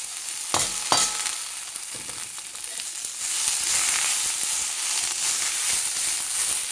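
Banana flower chutney ingredients fry in hot oil in a pan, a steady close sizzle with a few sharp pops and stirring scrapes early on, growing a little fuller in the second half, with no voices.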